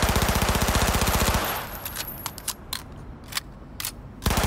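Gun firing in the video game Cyberpunk 2077: a fast, evenly spaced automatic burst up close, then scattered single sharp shots with short gaps, ending in another burst.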